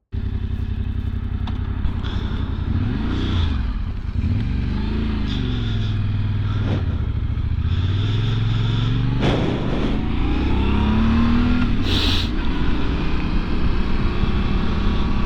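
A Yamaha Ténéré 700 motorcycle on a test ride, its engine droning steadily with rising and falling revs through gear changes, loud and close with wind rush and no talking.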